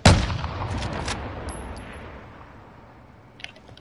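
Gunfire in the video game Modern Warfare: a sharp, loud shot with a booming tail fading over a few seconds, then a fainter distant crack near the end.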